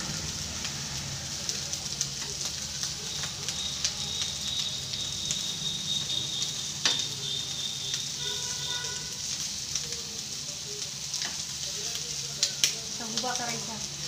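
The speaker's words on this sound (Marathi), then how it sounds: "आणि इथं अंडे फुटताय माशाचे फटाफट." Fish frying in its own oil sizzles steadily in a pan as the roe inside bursts with quick little pops. The crackling runs close and continuous, and a few sharper pops stand out near the end.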